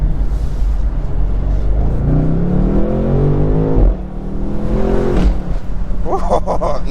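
A 2023 BMW M850i V8 convertible accelerates hard, its engine note climbing in pitch through the gears with a short lift-off dip between pulls and a deep rumbling exhaust, heard up close from inside the car.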